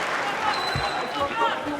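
A crowd at a PFL bantamweight MMA fight applauds and cheers in a sustained wash of clapping, with a commentator's voice talking over it.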